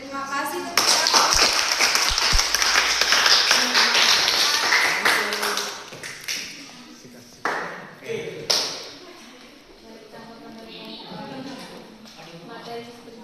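Students clapping in a high school classroom during a micro teaching lesson, a burst of dense applause that thins out into scattered claps, with voices talking over and after it.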